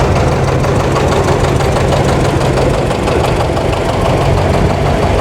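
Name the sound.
John Deere 730 diesel tractor engine idling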